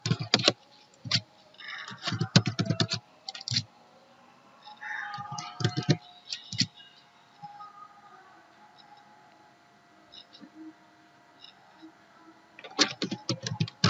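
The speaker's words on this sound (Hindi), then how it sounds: "फॉर एग्जांपल मैं यहाँ पे कुछ नेम टाइप कर रहा हूँ।" Names being typed into a Microsoft Excel 2019 sheet on a computer keyboard: close bursts of quick key clicks separated by pauses, with a faint steady hum underneath.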